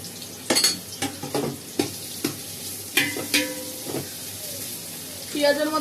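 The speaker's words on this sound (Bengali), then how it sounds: "এটাকে আগে বেরেস্তার মতন লাল লাল করে আমি ভেজে নেব" Chopped onions sizzle in hot oil in a pan, a steady fry under repeated sharp scraping and clinking of a spatula stirring against the metal, close by and moderately loud.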